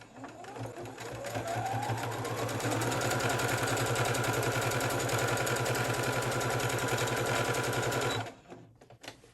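A sewing machine runs steadily for about eight seconds stitching the neck and hem of a basic blouse, a loud, fast, even mechanical whir that spins up, holds constant, then stops abruptly.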